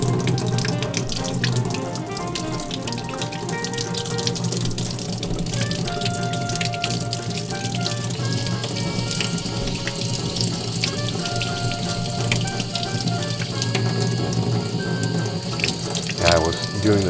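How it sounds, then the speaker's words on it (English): Tap water runs steadily into a sink as etching powder residue is scrubbed off a metal piece, a continuous splashing flow with small clinks and handling noises throughout. "the next step is to take this to the sink and wash this stuff off"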